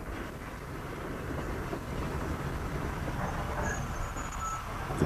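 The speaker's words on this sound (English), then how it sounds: "The train had stopped at a small halt." A train rumbling as it slows toward a stop at a small halt, with a steady broadband roar, faint wheel clatter and a brief high squeal near the end, heard fairly far off.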